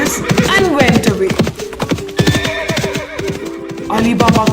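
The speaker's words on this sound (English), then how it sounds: "The thieves climbed on their horses and went away." Several horses neigh and whinny loudly and close by, with overlapping cries and a busy clatter of movement as the thieves' horses are ridden away in a storybook scene.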